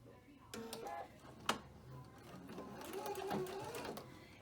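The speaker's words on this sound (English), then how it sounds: "I'm kind of sewing right on my serge line here, all the way around" A sewing machine runs steadily as it stitches along the serged edge of a hip purse, a close, continuous mechanical whir that goes on for the whole stretch with a brief knock partway through.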